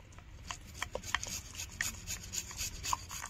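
Ajwain seeds crushed between the palms over a gram-flour batter for egg pakoras, a soft dry rubbing and crackle with light rasping strokes, close and quiet with no talk.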